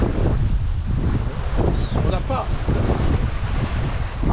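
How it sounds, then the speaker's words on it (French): Wind of about 13 knots buffets a sailboat at sea on a passage from Brindisi, Italy toward Korčula, Croatia, with steady roaring gusts and swell noise close to the microphone while someone speaks briefly over it. "on a 13 nœuds de vent, c'est pas énorme"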